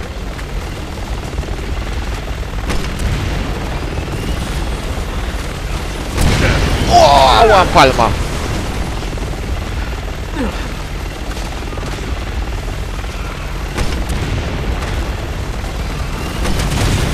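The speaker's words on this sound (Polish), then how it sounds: "The chopper's targeting us now! Everyone! Bring that chopper down and bring it down hard!" An attack helicopter in Resident Evil 6 roars steadily under gunfire and explosions, with a louder swell midway; a player talks over the game sound.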